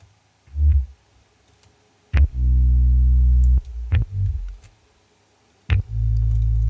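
A few deep notes on a Rickenbacker bass guitar play alone, some short and plucked, others held with a sharp, clicky attack and a thick low sustain.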